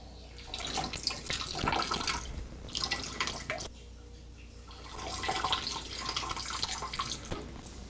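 A person peeing, heard as a steady trickling, splashing stream of liquid that comes and goes in several bursts, with short quieter pauses between them.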